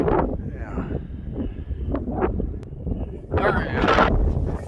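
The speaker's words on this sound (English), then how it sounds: "it's really windy" Strong wind gusts batter the microphone on a snowy skidoo trail during a snowstorm, a loud, rumbling roar that swells and surges unevenly, with a voice briefly underneath.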